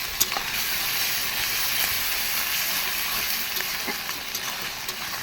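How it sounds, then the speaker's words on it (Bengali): Poultry meat sautéing with sugar in a hot pan, a continuous close sizzle and hiss with scattered crackles and pops running steadily throughout. "চিনি দিয়ে কষাই চলছে।"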